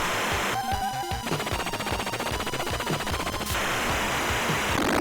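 Blue shot weapon in Cyber Core on the Turbo Grafx-16 hammering a boss, a dense rapid stream of retro chiptune shots mixed with buzzing effects and thumping game music, loud and continuous.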